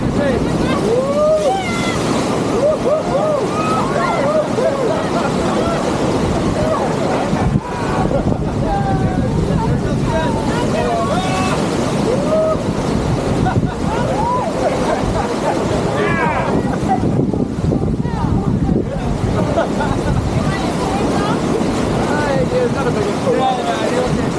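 Large sea waves surge and crash around a boat off the British Virgin Islands amid gusty wind and continuous rushing water, close and loud, with excited voices calling out over it.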